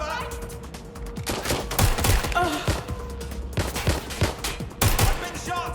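Gunfire in the Watch Dogs Legion video game: loud clusters of rapid shots crackle close by in repeated bursts, with brief pauses between volleys and some voices shouting amid the shooting.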